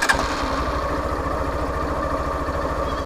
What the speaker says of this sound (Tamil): இது வந்து செல்ஃப் ஸ்டார்ட்.